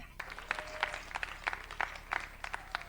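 An audience at a Hindi comic poetry gathering claps in a light, scattered patter, faint and distant, with no voices standing out.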